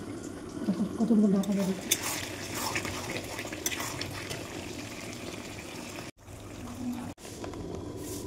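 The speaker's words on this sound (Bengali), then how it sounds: "সব শাক বেছে নিয়েছি, এটা ধুয়ে নেব।" Red amaranth greens are washed in water, with swishing and splashing that is loudest early on and quieter sloshing after, while a voice speaks over it.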